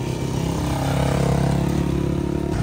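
A motorcycle ridden on a trip around Dharan gives a steady, loud, close engine roar with a constant droning rumble that runs unbroken through the whole stretch.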